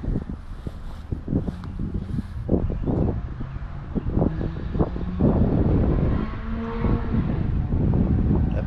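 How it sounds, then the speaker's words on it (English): Wind rumbles and buffets the microphone outdoors beside a Harbor Freight utility trailer, with intermittent knocks and clatter in the background, growing stronger toward the end. "I apologize if it's a little windy out here."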